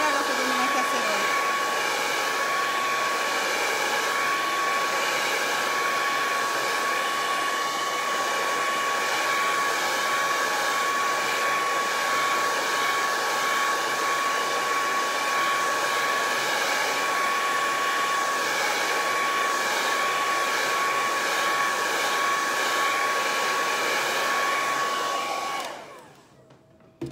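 A hair dryer blows steadily and loudly on craft paste during a bird house build, a constant whirring roar with a fixed high whine that runs unbroken before cutting off near the end.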